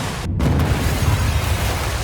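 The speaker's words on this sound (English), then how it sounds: "the woman had planted a bomb and it would explode in 10 seconds." A bomb blast from an action film: a deep, rumbling boom with a brief sharp burst near the start, then a sustained low roar that fills the whole moment at steady loudness.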